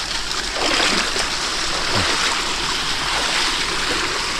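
Water flows steadily at the edge of a forest, a continuous close rushing wash around a catfish trap site, with no voices.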